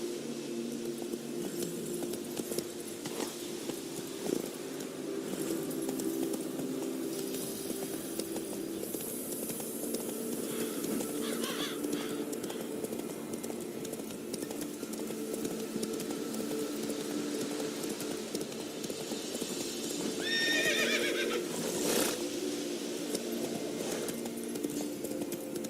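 Roach the horse in The Witcher 3, hooves clopping steadily under game music and ambience, with brief snorting or neighing-like bursts near the end and no talking.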